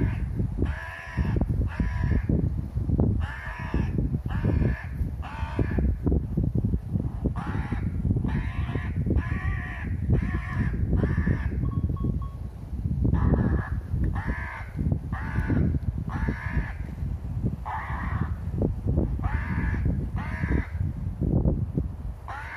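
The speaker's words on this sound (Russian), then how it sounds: "Молодой охотник подкрадывается к вороне." A crow caws repeatedly outdoors, loud and near, in a steady run of harsh calls with short pauses between them.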